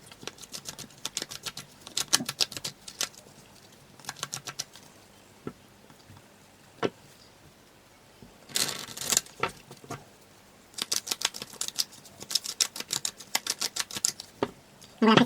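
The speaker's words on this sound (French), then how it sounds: "ce moment où je mélange les cartes et que je pose les cartes" Tarot cards being shuffled and laid out, giving bursts of crisp riffling and flicking at close range, separated by quieter stretches with soft single card placements.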